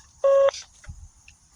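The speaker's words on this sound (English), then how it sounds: "Please leave a message after the tone." A phone voicemail tone sounds once, a short, loud, steady electronic beep, followed by faint line noise and quiet clicks.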